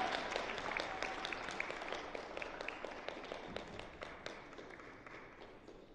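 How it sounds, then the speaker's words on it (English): An audience at a university vocal competition finals claps steadily, a soft, distant patter of individual hand claps with some louder taps standing out. "Let's give them a round of applause and something to smile for."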